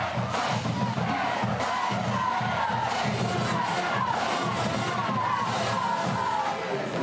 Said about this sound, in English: Wow, you can really hear that